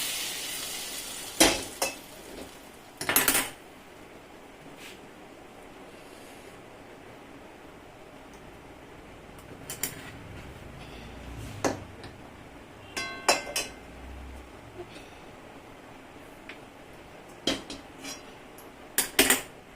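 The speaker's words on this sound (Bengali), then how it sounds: "আমি তেলটার মধ্যে দিয়ে দিয়েছি, যে যেটা কড়াইতে ছিল তেলটা আমি দিয়ে দিলাম" Hot frying oil tipped from a wok onto a spice paste for a steamed egg dish: a low, faint sizzle under sharp, scattered clinks and scrapes of utensils against metal, close by with no talk.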